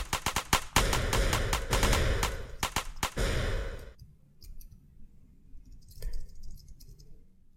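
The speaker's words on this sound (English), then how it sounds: "shoot with the space key. It makes the sound, and there's an explosion when the bullet hits the enemy" A homework-assignment shooter game firing bullets and blowing up enemies: rapid loud bursts of shots and blasts, then a quieter stretch of scattered clicks and a later softer burst, no talking.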